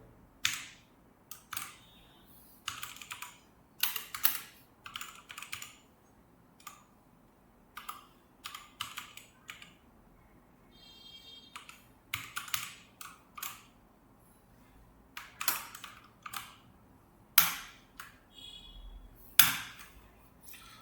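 Irregular bursts of keystrokes as Python code for an iris flower classification model is typed on a computer keyboard, close and crisp, with short pauses between runs and no talk.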